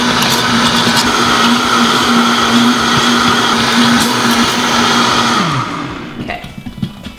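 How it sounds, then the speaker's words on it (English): A Vitamix blender whirs through spinach for homemade baby food, a loud, steady motor drone with a sustained whine that cuts off near the end, leaving quiet clatter. "If you have a Vitamix, this, you kind of push it down and it's gonna help blend it."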